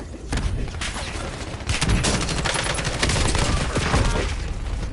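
Dense, continuous gunfire fills a Call of Duty-style first-person shooter match, with rapid overlapping shots and bursts, loud and close, sustained without pause for the full stretch.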